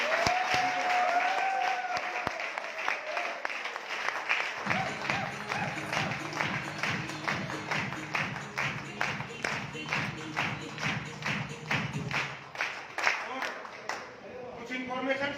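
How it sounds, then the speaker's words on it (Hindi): A seminar audience in a hall in Narnaul, India breaks into sustained applause, starting with scattered claps and swelling into a steady roar of many hands over about fifteen seconds, with some voices mixed in near the start. "अगर अच्छा लगा है तो तालियां से बजाएं"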